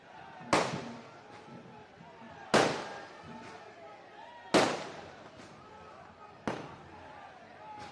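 Firecrackers go off at an outdoor political rally: four sharp, loud bangs about two seconds apart, each followed by a short crackling tail, over a steady murmur of crowd noise and voices.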